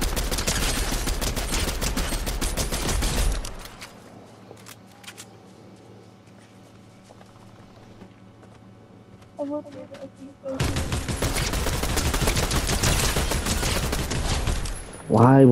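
Loud bursts of rapid automatic gunfire in the Fortnite video game, one long barrage, then a quieter stretch with scattered faint tones and a short beep, then another heavy sustained barrage near the end.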